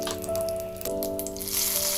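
Dried red chillies crackle and sizzle in hot oil with mustard seeds in a pan for Kerala-style tomato rasam, a steady close frying hiss with a sustained tonal hum underneath.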